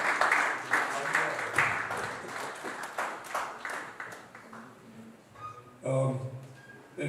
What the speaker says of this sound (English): Please continue with the round of applause.